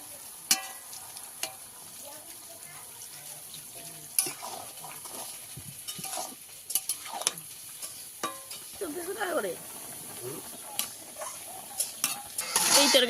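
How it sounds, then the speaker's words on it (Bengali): Fish and Malabar spinach curry in a pan, stirred with a utensil after water is poured in, giving soft sizzling, wet bubbling and occasional clinks of metal against the pan. "এই পর্যায়ে দিয়ে দেবো জল।"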